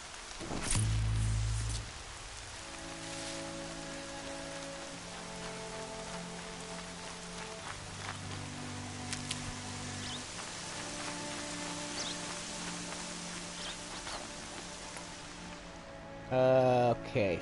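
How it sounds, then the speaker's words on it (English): Steady rain hiss in the video game Horizon Zero Dawn, with soft tonal game music underneath and a brief louder burst near the start and again at the end. "Rain's not so bad."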